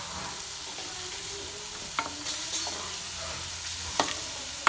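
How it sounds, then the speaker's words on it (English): Mushrooms with turmeric and garam masala are sautéed in a pan, a soft steady sizzle broken by intermittent scraping and tapping of a spatula as they are stirred, fairly quiet and close with no speech. "saute the mushroom like this"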